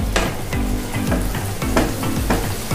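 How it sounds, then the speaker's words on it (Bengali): Masala spice paste fries and is stirred in a pan, with a steady loud sizzle broken by regular scraping strokes roughly every half second, no voices. "খুব ভালো করে মশলাটা কষিয়ে নিচ্ছি।"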